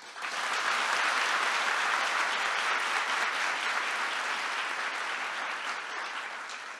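Enthusiastic audience applause for the minister at a youth gathering with Turkey's president, a broad, dense roar of clapping from a large crowd, steady throughout and tapering slightly at the close.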